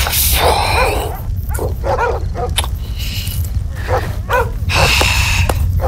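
Several dogs bark repeatedly in short, loud bursts nearby over a constant rush of wind.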